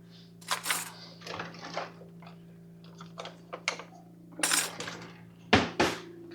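Kitchen utensils clink and rattle in a drawer or holder as a wooden spoon is picked out, giving several short, light knocks and scrapes over a low steady background hum.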